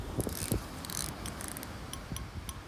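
Ratchet drag of a fishing reel clicking in a few irregular bursts as the tide pulls line while shore fishing for rays and conger, faint over steady outdoor wind noise.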